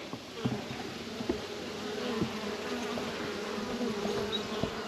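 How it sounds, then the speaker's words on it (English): A swarm of wild bees hums in a continuous, dense buzz, close and steady, with a few faint knocks underneath and no speech. "I honestly thought that there was definitely not a swarm in here, but look at this"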